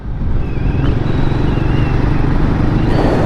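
A Royal Enfield Guerrilla 450 motorcycle cruises along a seaside road, its engine a loud, steady, close rumble mixed with wind noise, with faint tonal whines drifting above it.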